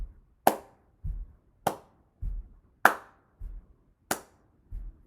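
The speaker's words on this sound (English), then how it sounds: "let's say the emphasis is a clap and the non-emphasis is a stomp" Slow, evenly spaced pattern of single sharp hand claps alternating with softer, low thuds of foot stomps, each hit isolated in a quiet room, demonstrating an emphasized and unemphasized beat.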